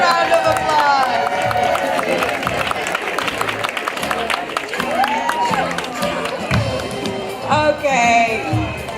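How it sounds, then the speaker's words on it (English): An audience applauds and cheers for a child at a school word parade, a dense, steady crowd clapping with scattered whoops, and voices chatter throughout. "Let's give a round of applause."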